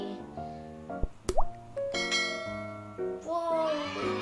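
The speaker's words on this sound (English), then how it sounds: "we're gonna add the calamansi into the glass of water" A small calamansi citrus fruit plops into a glass of water, a brief splash and ringing glassy drip, followed by bright tonal clinks and bubbling close by, with no voices over it.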